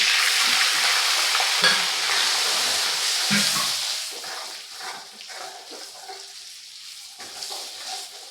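Garlic, cumin, black masala, red chilli, turmeric, garam masala, onion-garlic masala and coriander powder fry in a pan for a green pea curry, a steady hiss that eases after a few seconds, with occasional stirring scrapes, no voices.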